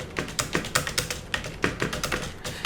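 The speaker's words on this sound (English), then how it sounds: "if we start typing" Keys clatter on a computer keyboard while someone types text in the Scribus desktop publishing program, a steady run of close, crisp clicks with irregular rhythm and no speech.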